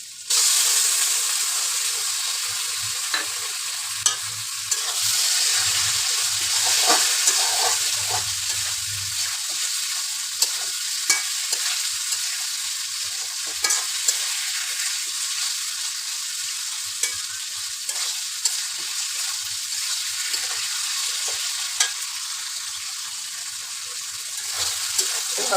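Small boshi fish frying and being stirred in a pan for a curry with potato and eggplant: a continuous close sizzle and hiss runs throughout, with occasional scraping stirs and spatters.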